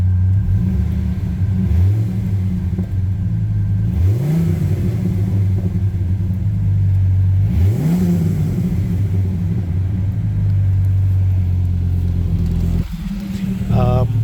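A Dodge Ram SRT10 Viper truck fitted with a MagnaFlow exhaust idles with a loud, deep, steady rumble, blipped upward in several short revs before settling, heard close up with someone talking faintly over it.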